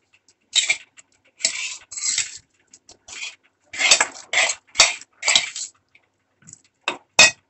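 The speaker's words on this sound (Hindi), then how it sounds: "मैं इसको अच्छे से मिक्स करूंगी।" Masala chaap being mixed with green chutney and onions in a bowl, bursts of metal spoon scraping and clinking in an uneven rhythm with quiet gaps, close up and no talk.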